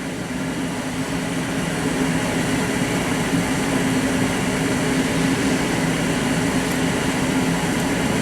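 A two-stage natural gas furnace burner runs on high fire, giving a steady, even roar with a low hum underneath that holds constant throughout.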